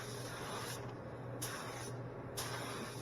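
An Aeropro A/610 spray gun lays down a tack coat of Finish 1 clear coat, giving a steady, faint airy hiss with a few brief louder bursts as the trigger is worked.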